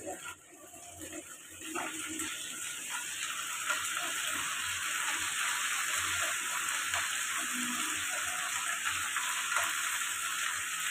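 Beans and eggplant frying together in a pan, a steady soft sizzle with faint crackles that keeps going throughout at low to moderate level.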